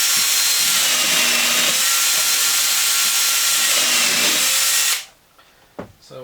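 A power drill drives screws into a wooden board with a loud, steady whine up close, dipping briefly a few times under load, then stops abruptly, leaving quiet handling clunks.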